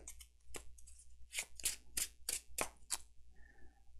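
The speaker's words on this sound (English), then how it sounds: "Put those mulliganed cards back in here and whoopsie," An Arkham Horror card deck is shuffled by hand in a series of crisp riffles and snaps, close and fairly faint, with a short quieter rustle at the end and no talking.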